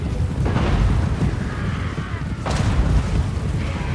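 Artillery fire in a Bretonnian fantasy strategy game battle against an orc wave, with heavy booms and rumbling blasts, two sharper impacts standing out, and some indistinct voice in the mix.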